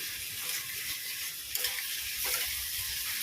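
Bottle gourd cooks with a fish head in a pan, making a soft, continuous sizzle with a few stirring scrapes, faint and steady throughout.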